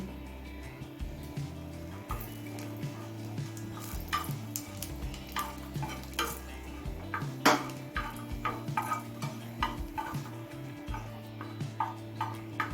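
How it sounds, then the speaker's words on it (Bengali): Four dried red chilies frying in about two tablespoons of mustard oil in a pan, heard as a steady close sizzle broken by repeated clinks and scrapes of a spoon against the pan. Nobody speaks. "লঙ্কাটা লাল করে ভেজে নিলাম"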